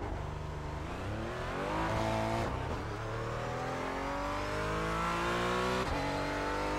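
A racing video game car engine revs steadily, pitch climbing in repeated sweeps as gears change, with a brief dip around two and a half seconds; loud, continuous, no talking.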